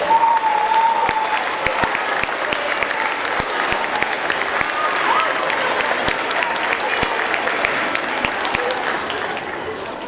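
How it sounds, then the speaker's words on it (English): An audience at a sixth-grade awards ceremony applauds honors students, a dense, sustained roll of clapping from many people lasting about ten seconds, with scattered voices and cheers beneath it. "Let's give them a round of applause."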